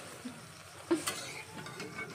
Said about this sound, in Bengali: গরম গরম ভাজছি